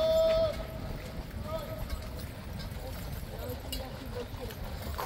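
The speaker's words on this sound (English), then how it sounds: "Let's hope the horses behave this morning." Cavalry horses of the Life Guards clip-clop at a moderate distance over steady outdoor background noise, with voices present.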